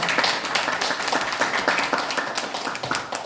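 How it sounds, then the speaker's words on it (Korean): An audience applauds at a conference event in a National Assembly members' office building, a dense burst of many hands clapping close by that holds steady and then slowly fades. "큰 박수 부탁드리겠습니다."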